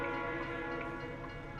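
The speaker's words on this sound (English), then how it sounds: "Wow, the train horn on that one sounds really good" In American Truck Simulator, a train horn sounds as a steady, sustained multi-tone blast, fairly loud and unbroken for its whole length, with no talk.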